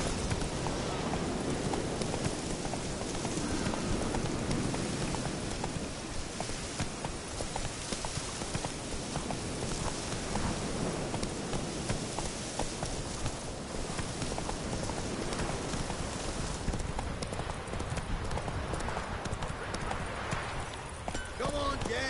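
In The Witcher 3, a horse gallops at a quick, steady pace, its hooves clip-clopping under a voice and a busy layer of game ambience.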